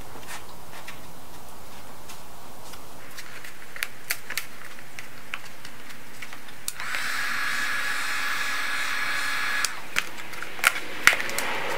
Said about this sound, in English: hit it with a heat gun for a second or two and it'll make it that much more malleable